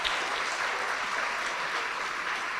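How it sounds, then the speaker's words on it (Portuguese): A church congregation applauds steadily and densely throughout, a continuous wash of clapping at a fairly even level with no gaps and no clear voices above it. "vamos aplaudir ao Senhor Jesus por cada vida que está chegando"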